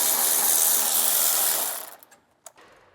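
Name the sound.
13mm socket ratchet working on brake line bracket bolt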